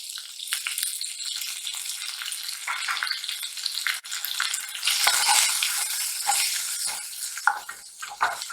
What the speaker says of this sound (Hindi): अब हम इसको जब तक फ्राई करेंगे जब तक हमारी प्याज जो है वो गोल्डन ब्राउन ना हो जाए